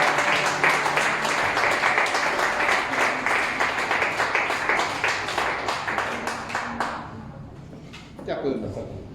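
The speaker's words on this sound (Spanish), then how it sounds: "Denle un aplauso al Señor." A church congregation claps and applauds loudly for several seconds, the dense ovation fading gradually before a voice resumes speaking at the end.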